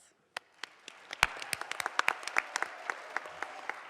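Graduation-ceremony applause from a crowd, starting as a few scattered sharp claps and quickly building into a steady patter of many hands, moderately distant and fairly soft.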